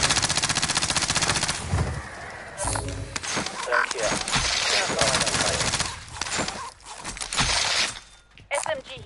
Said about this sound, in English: SMG here. Submachine gun.